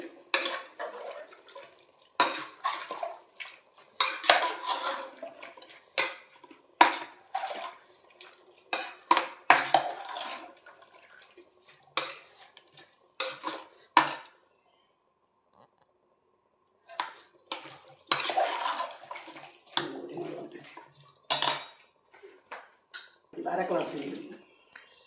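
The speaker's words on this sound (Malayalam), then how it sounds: "ഇളക്കി യോജിപ്പിക്കുക" A kilo of tapioca is stirred with water in a metal pot, producing intermittent scraping and clanking of a spoon against the pot in irregular bursts with quiet pauses between.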